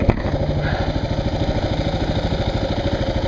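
A motorcycle engine idles slightly high, with a steady, even chugging pulse close by, running throughout without talk.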